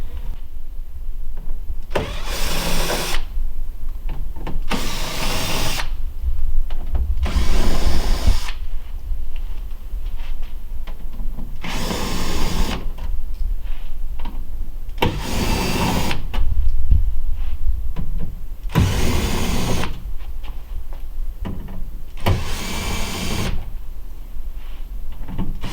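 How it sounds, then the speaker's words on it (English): A drill with a Phillips bit backs out panel screws on an Ultra-Aire 90H dehumidifier, giving seven loud whirring bursts of a second or two each, evenly spaced with short quiet gaps between them and no talk. "removing the 3 Phillips head screws using a Phillips screwdriver or Phillips bit for a drill"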